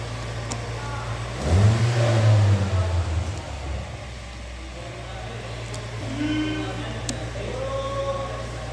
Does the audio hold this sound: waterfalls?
no